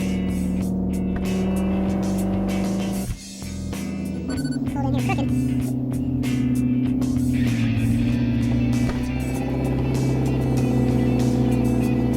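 A Mustang engine hums steadily and rises as the car drives along, with a brief dip partway through; the engine stays loud and close.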